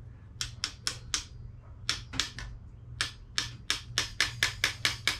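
Vise grips clamped on a Shimano brake hose fitting are struck with a hammer in a series of sharp metallic taps, first spaced, then quicker and evenly paced near the end, close and clear.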